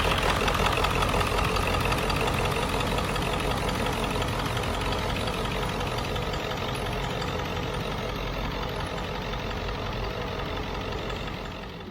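A Ford F350 truck engine runs at idle close by, producing a loud, rough, knocking rumble that stays even throughout and fades slightly toward the end, with no voices.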